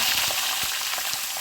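Fenugreek seeds and curry leaves sizzle in hot oil during tempering, a steady close frying hiss with small crackles throughout.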